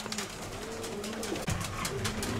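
Close pigeons from a Greek loft coo in low, repeated throaty phrases, several birds overlapping against a steady background hiss, with no talking.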